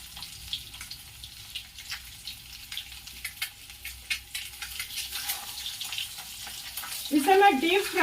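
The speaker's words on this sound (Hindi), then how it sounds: "इसे मैं डीप फ्राई करूंगी" Boiled eggs deep frying in hot oil for a Bihar-style egg curry, a steady crackling sizzle with scattered pops, growing louder and busier toward the end.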